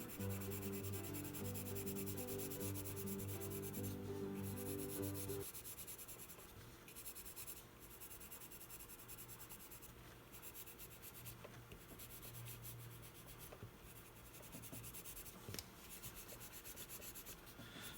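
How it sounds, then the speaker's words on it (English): Pencil lead rubbed flat across paper with the side of the tip for coloring a drawing: a steady, soft scratchy rasp of continuous strokes, close and quiet, with no speech. "I'm just coloring it flat using the side of the pencil here"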